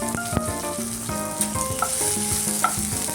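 Coarse spice mix goes into dill greens sizzling in a pan, a steady close frying hiss with stirring scrapes and clinks over the top.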